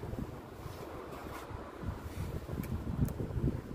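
Wind blows around a tower where a 150-year-old cobbled wall panel is being restored, a continuous low rumble of microphone buffeting that swells louder in the second half, with a few faint taps.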